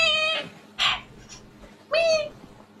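Angry cat giving several short, harsh yowls and hisses with pauses between them, close and fairly loud.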